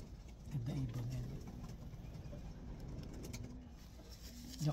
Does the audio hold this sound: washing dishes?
no